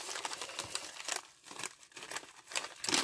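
Scissors cut through an orange mesh net in short, uneven bursts, giving close, crisp crinkling snips with brief pauses between cuts.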